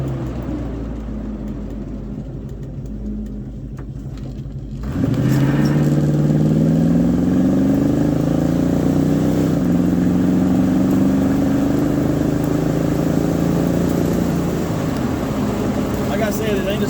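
An old barn-find car pulls away from a standstill: a quieter idle gives way to a sudden loud engine rise, then a long, steadily climbing rev through acceleration, with a voice speaking over it.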